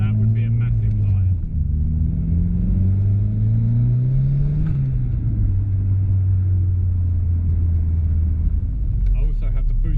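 A turbocharged Ford Escort estate engine runs steadily and close, its low drone rising and falling in pitch as the revs shift, with no one speaking over it.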